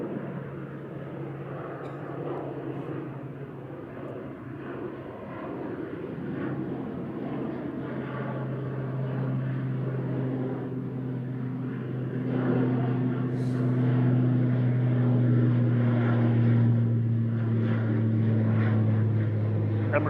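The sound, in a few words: Aer Lingus Regional ATR 72-600 turboprop departing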